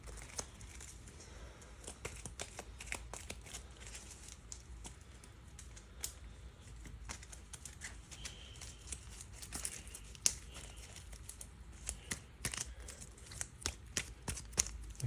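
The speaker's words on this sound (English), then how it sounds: "So let's shuffle these random events again." Random event cards for the Tainted Grail: Fall of Avalon board game being shuffled, quiet irregular riffling clicks and soft crinkly snaps close by, with no talking.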